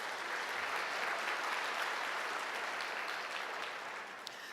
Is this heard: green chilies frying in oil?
no